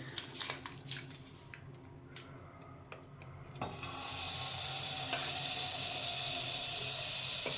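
Butter heating in a pan on the stove: a few light clinks and scrapes first, then a sudden, steady, bright sizzle that holds close and loud to the end.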